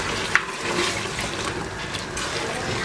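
A little water is poured into a pot of frying tomato paste while cooking pilau, giving a steady close rushing and sizzling wash with a brief splash at the start.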